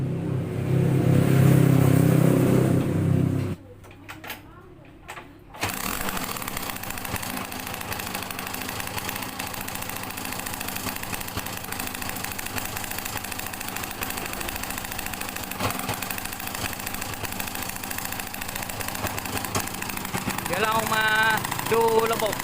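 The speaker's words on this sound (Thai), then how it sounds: "เดี๋ยวสตาร์ทใหม่อีกครั้งหนึ่งว่าจะติดหรือเปล่านะครับ" Motorcycle engine with a hand-wound YL2 stator coil, new main wiring and a converted CDI, starting up after a brief pause and settling into a steady idle, close and continuous, with someone talking over it.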